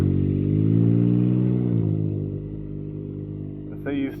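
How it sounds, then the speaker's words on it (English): A Can-Am Ryker with an aftermarket exhaust revs loudly and burbles, then the pitch drops and settles into a lower idle. A short voice is heard at the very end. "So you still get that good burble without it being like insanely loud"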